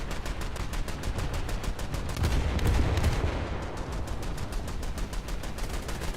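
Rapid anti-aircraft gunfire from AI gunners aboard a ship in a naval combat video game, a steady stream of dense, evenly spaced bursts that swell briefly in the middle, with no talk over it.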